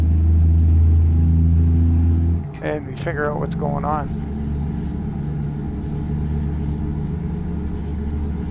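A simulated truck engine in American Truck Simulator, a low steady rumble that runs loud and then drops to a softer drone as someone talks briefly over it.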